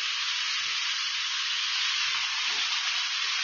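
Vegetables stir-fry in a hot pan with oyster sauce, soy sauce and sugar, giving a steady, even sizzle that hisses throughout at one level with no talking.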